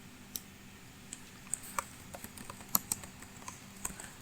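Someone types on a computer keyboard at a desk, giving light, irregular clicks and taps. The keystrokes are close but quiet, with no talking.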